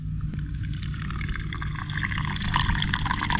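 Soy sauce is poured in a steady, close, continuous liquid stream as marinade for thick Filipino-style grilled pork chops, gurgling slightly as it fills the container.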